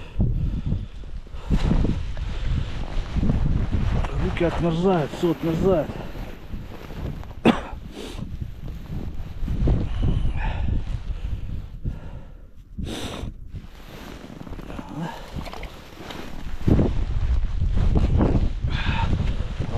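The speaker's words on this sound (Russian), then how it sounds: "О, кошмар, ветер какой" Strong, gusty wind on an ice-fishing trip, buffeting the microphone loudly throughout, with someone speaking briefly over it.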